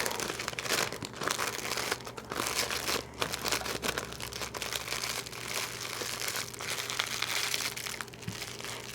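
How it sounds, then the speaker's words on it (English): Cellophane wrap crinkling as it is folded around homemade old-fashioned candy apples; close, fairly quiet crackling rustles continue steadily with small bursts and pauses, no voices. "So I've got just a square of the cellophane wrap that I cut up"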